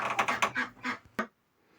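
Several quick nasal quacks in a rapid burst, fairly close, ending with a sharp click, then quiet.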